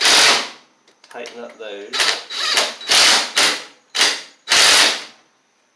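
A hand ratchet tightens bolts on a Craftsman riding mower, giving about six loud, close bursts of rapid clicking separated by short pauses. Someone briefly speaks between the early bursts.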